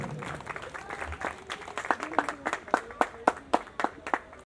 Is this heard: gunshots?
no